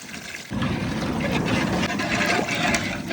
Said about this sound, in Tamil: இப்போ முதல்ல 7 லிட்டர் தண்ணி சேர்த்துக்குவோம்.